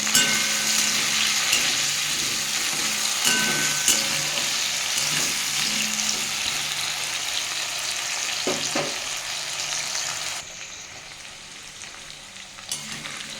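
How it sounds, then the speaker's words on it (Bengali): Potato pieces salted and frying in hot oil until reddish for a fish broth with pointed gourd, a loud, constant close sizzle with occasional stirring scrapes, dropping slightly near the end, no voices. "আলুটা আমি লাল লাল করে ভেজে নেবো"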